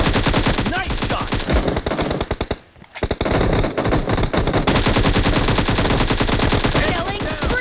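Rapid automatic gunfire in the mobile battle royale game PUBG Mobile, a loud continuous stream of close shots with one brief pause before firing resumes.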